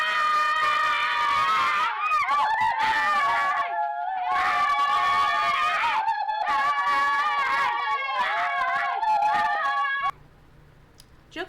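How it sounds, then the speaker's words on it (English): Children in the 1977 public information film Apaches scream and shriek in long, loud, overlapping wails, broken by short pauses, with a quieter rural background at the end. "And the kids scream some more."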